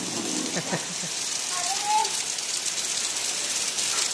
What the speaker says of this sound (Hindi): बारिश काफी तेज आ रही है।